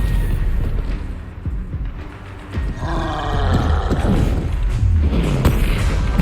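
Bombarda spell explosions in Hogwarts Legacy during a spell-casting fight: deep, roaring booms and rumbling blasts run continuously and loudly, layered with whooshing magic effects and no speech.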